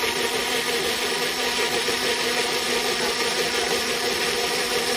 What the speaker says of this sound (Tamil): இப்போ பிளெண்ட் பண்ணிக்கலாம்.